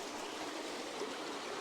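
A creek flows in a steady, close babbling rush of water, even and unbroken, with no talking.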